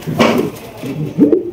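A Lahori pigeon coos nearby in two short, low, throaty bursts.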